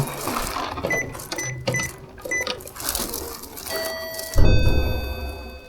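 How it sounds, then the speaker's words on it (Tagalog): An electronic doorbell chime at a home in Japan rings out in a short sequence of clear tones, loud and close, with clattering handling noises before it. "Doorbell na naman."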